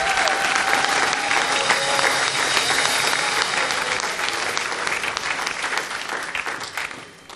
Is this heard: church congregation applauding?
yes